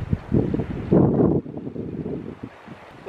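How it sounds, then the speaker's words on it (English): Gusty wind buffets the microphone outdoors on a sunny, scenic day, rising and falling in rough bursts with no talking. "It's a bit windy though."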